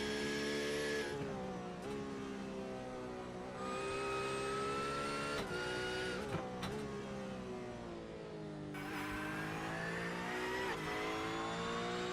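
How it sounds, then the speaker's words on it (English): A GT3 Cup race car engine in a racing video game at Zandvoort revs steadily with smooth harmonic whine, rising and falling through gear changes and throttle lifts, loud and continuous with no talk. "Easy on the throttle, that's what you can hear."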